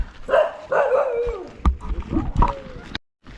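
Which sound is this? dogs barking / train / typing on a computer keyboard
dogs barking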